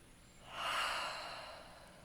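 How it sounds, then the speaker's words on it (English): A single slow, deep exhale during a guided meditation, soft and close, rising and then fading out over about a second and a half. "Taking a deep breath as we soak up this feeling of peace and relaxation"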